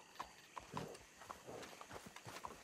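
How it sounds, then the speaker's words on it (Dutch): A horse's hooves clip-clop at a steady walking rhythm in the game Red Dead Redemption 2, faint and even throughout with no talk over them. "Dat is mijn paard joh."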